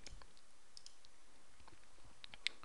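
A single faint mouse click on an OK button near the end, over quiet room hiss.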